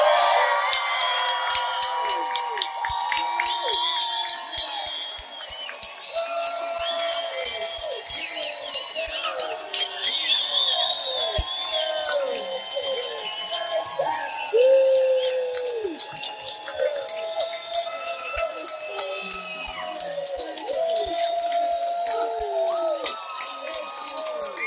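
A conference crowd cheers and applauds continuously, with rapid clapping, shrill whistles and whoops rising over a steady roar of voices.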